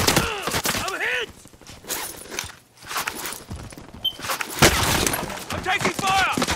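Gunfire from the Call of Duty video game crackles in bursts alongside shattering and scuffling effects, while players talk and shout over it throughout.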